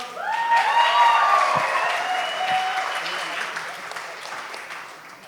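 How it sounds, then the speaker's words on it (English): Guests at a wedding reception applaud in a steady round of clapping with whoops and cheers on top, loudest early on and gradually easing off. "Give it up another round of applause"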